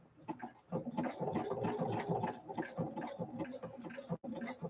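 A Husqvarna Viking 690Q sewing machine stitching through leather, running as a steady, close, rapid mechanical chatter of needle strokes with a brief stop near the end.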